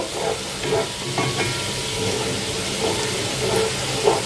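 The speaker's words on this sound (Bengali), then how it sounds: "মশলাটা ভালো করে কষাই নিচ্ছি" Spice paste for chicken bhuna fries in a pan with a steady, close sizzle, broken by soft scraping and stirring strokes at irregular intervals.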